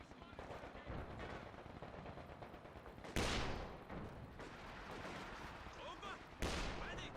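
Gunfire in the video game Company of Heroes 2: bursts of machine-gun and rifle fire with two louder sharp blasts amid battle noise, fairly faint, under a caster's commentary.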